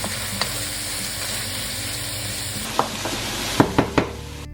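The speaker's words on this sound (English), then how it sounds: "add 500 grams of ground beef to the pot. Break it apart as it cooks, ensuring it browns evenly." Ground beef sizzles as it browns in a pot, a steady close crackle broken by a few sharp knocks and scrapes of a spoon near the end as the meat is stirred and broken apart; no voices.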